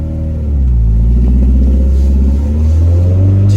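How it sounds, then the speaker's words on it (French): A Group A rally car with a custom exhaust accelerates hard, its engine rumbling loud and close as the revs climb in a steady, rising drone with no voices over it. "Accélération."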